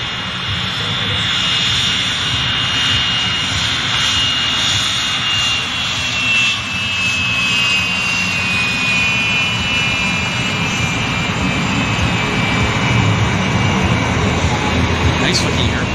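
A jet aircraft at an airshow at CFB Cold Lake roars steadily overhead, a loud broad rushing engine noise that swells slightly toward the end.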